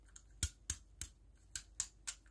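Kenner R2-D2 action figure giving a run of sharp, dry clicks, six or so distinct snaps spaced irregularly, close and fairly quiet with no other sound.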